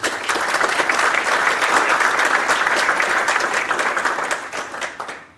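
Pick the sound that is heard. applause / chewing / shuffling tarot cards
applause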